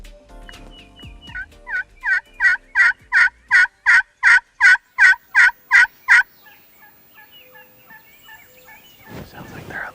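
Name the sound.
wild turkeys gobbling in a field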